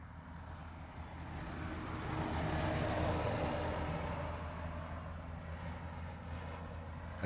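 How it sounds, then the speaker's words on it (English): Boeing 717 airliner in Moana 2 livery arriving from Kailua Kona at Honolulu airport, a broad engine roar that swells toward the middle and then holds steady, heard from a distance. "This is the 717 with the Moana 2 livery on it."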